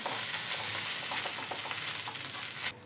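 Curry leaves, shallots and garlic fry in a pan for a chickpea and potato curry, a steady close sizzle with light stirring scrapes that cuts off abruptly at the end.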